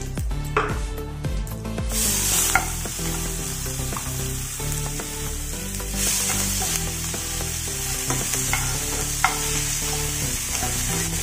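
Freshly ground masala frying in a pan with cumin and hing for vada pav, a loud continuous sizzle up close with scraping stirs and occasional clinks of a spoon, no talking.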